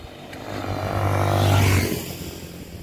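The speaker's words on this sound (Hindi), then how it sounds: "बाइक आयो बाइक" A motorbike passes by on a village road in Udayapur, Nepal, its engine note swelling from a distant hum to a loud close drone and then fading away.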